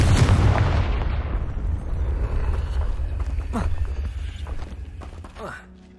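A Confringo spell blast in Hogwarts Legacy, a loud booming explosion right at the start whose rumbling tail decays over several seconds, followed by a couple of fainter impact crackles.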